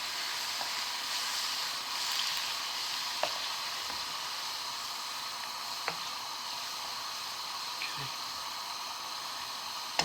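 Chicken balti sauce with stock heats toward the boil in a pan, a quiet steady sizzling hiss with occasional small pops and clicks, a voice faintly present.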